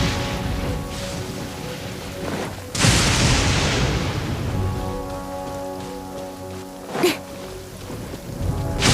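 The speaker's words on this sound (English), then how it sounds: "Thunder and lightning can be quite frightening" Steady rain pours in a Genshin Impact thunderstorm, with a loud thunder crack bursting in near the middle and another sharper crack later, the downpour continuing throughout without any voices.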